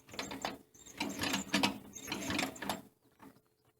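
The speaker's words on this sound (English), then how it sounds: "I'll just ease this crank around and it'll fire up." A hand crank is eased around on a garden engine, giving a close, rhythmic ratcheting and clattering mechanical churn in several uneven pulses without the engine catching.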